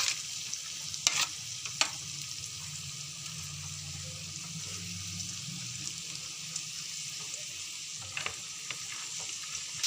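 Vegetables are tipped into masala in a pan and stirred for a vegetable masala tikka roll filling, giving a soft, low sizzle with a few clattering spoon knocks early and late; fairly quiet, and no one talks.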